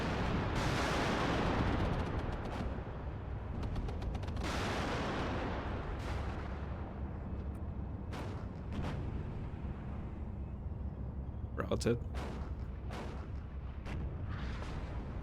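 Heavy booming gunfire and artillery blasts in the video game WARNO roll out in bursts, with sharp cracks and rumbling echoes between, loud and close, and a brief spoken word.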